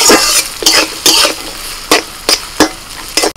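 Finely chopped carrots and beans fry in a pan with minced ginger and garlic, a loud steady sizzle broken by regular scraping strokes of a spatula stirring the vegetables.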